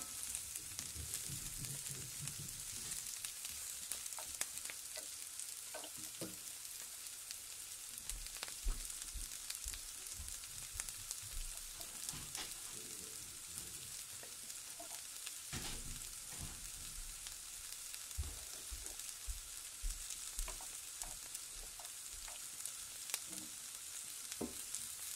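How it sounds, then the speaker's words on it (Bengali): Paneer pieces sizzling and frying steadily in a pan, a continuous crackling hiss with occasional clinks and stirring sounds, close and alone without speech. "পনিরের এক সাইডটা ফ্রাই হয়ে গেছে, তো এখন আমি উল্টায় দিব, আরেক সাইডটা ফ্রাই হয়ে গেল।"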